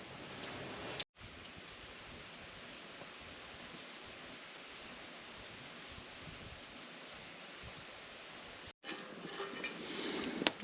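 Steady rain falls at a woodland campsite beside a rocky cave, a dense even hiss that holds for several seconds, cuts out briefly and returns with louder close patter near the end.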